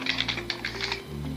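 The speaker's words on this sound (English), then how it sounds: "I can simply type something in" Quick bursts of keystrokes on a computer keyboard while an email is typed, close and clicky in short uneven runs over a low steady hum.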